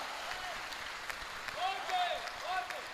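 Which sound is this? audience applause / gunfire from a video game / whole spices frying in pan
audience applause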